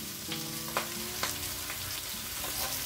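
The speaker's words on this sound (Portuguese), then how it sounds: "acabei de colocar a cebola aqui no carré." Onion sizzling in olive oil in a pan, a steady close frying hiss with a few soft stirring scrapes and faint background tones, no talking.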